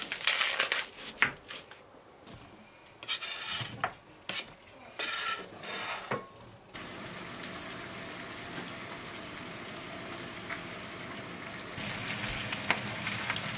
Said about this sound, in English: I'm just gonna get started cutting and chopping and getting to work.